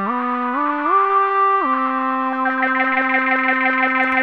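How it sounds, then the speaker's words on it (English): Synth lead from an emulated Korg Monotron in Ableton, stepping through pitches as delay feedback is raised, so repeats and echoes pile up and smear behind the sustained buzzy tone. "So as I turn up the feedback, you'll start to hear the delay."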